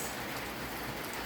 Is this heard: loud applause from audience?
no